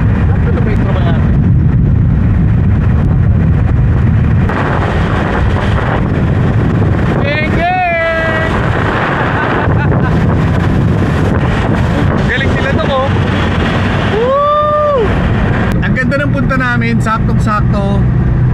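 Steady rushing wind noise buffets the microphone throughout, like air blowing through open car windows while driving, with occasional brief high tones and voices mixed in.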